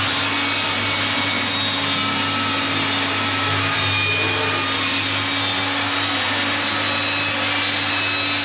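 A saw cuts through parquet flooring during a house renovation, giving a steady, continuous rasping drone over a low electrical hum for about eight seconds, with no talking.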